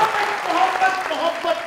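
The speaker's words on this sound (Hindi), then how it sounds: "सभा जी के लिए तालियां।" Applause from a crowd, a steady wash of clapping that holds for a couple of seconds, with voices mixed in.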